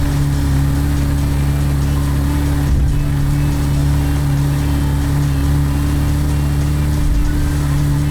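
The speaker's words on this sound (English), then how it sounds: "Let's test if the car can cross the bridge at high speed without crashing into anything." A Lada Riva engine in the driving game Untitled Trip, droning loudly and steadily at high speed while the car crosses a bridge in a desert, a constant hum with little variation.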